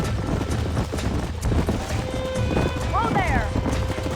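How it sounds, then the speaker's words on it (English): Horses gallop in Red Dead Redemption, hoofbeats clopping under loud excited talk and shouting, with a brief whinny near the end amid the busy game ambience. "There's the horses!"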